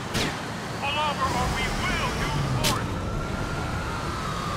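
Wailing police car sirens in GTA IV: The Lost and Damned, heard over steady traffic and road noise, with game chatter and someone speaking in the mix.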